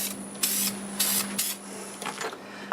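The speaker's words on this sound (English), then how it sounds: "I'll use lacquer for the finish, and I'll just spray it on." Lacquer finish sprayed onto a turned piece of iron-hard wood in bursts of aerosol hiss, with several short blasts, close and fairly loud, against a steady low machine hum.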